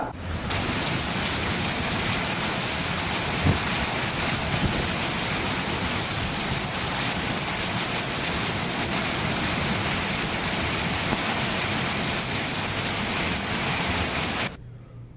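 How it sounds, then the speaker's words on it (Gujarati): Heavy unseasonal rain driven by wind pours down in a town, a loud, dense, unbroken roar of downpour lasting the whole stretch before cutting off. "જિલ્લાના બાબરામાં ધોધમાર પવન સાથે વરસાદ પડ્યો"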